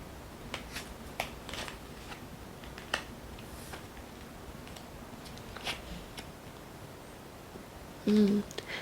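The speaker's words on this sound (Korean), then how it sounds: "그렇다면 한번 흐름 카드를 뽑아보도록 할게요" Tarot cards being shuffled and drawn for a reading, with soft close card flicks and snaps in an irregular sequence, fairly quiet, followed by a brief tone near the end.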